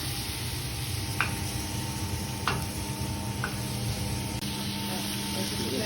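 Browning butter sizzling steadily in a pan while being basted, a constant close hiss broken by a few light spoon taps against the metal.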